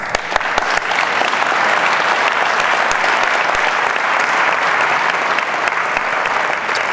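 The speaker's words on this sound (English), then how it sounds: "Let's have a round of applause." Sustained audience applause fills a gathering hall after a talk on MLK and reparations by Rev. Jeremiah Wright, with dense steady clapping and a few sharper claps standing out, loud and continuous throughout.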